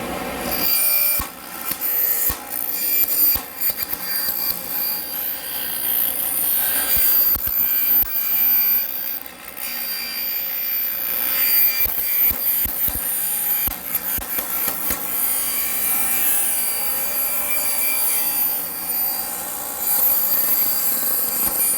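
Maple and redwood sides for a baritone ukulele tapered on a cutting jig: a continuous close, loud power-tool whine with rasping wood-cutting noise that wavers through the whole stretch, no talk.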